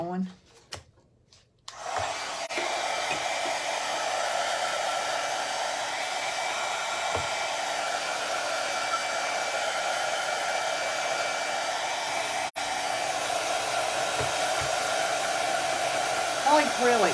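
A hair dryer blows steadily to dry fresh acrylic paint, a loud continuous whooshing whine that starts after a brief handling clatter and runs unbroken, with a short click partway through.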